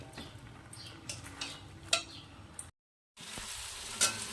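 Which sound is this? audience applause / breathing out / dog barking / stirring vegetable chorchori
stirring vegetable chorchori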